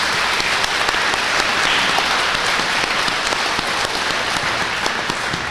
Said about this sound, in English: So we need to give them a round of applause for sticking their necks out there.